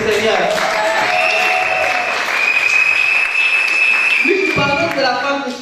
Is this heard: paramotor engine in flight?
no